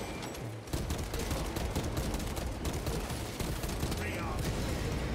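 Gunfire in the video game Space Marine 2 from a sniper build, a dense run of sharp sharp shots and impacts at close range with game effects around them and a voice speaking in places.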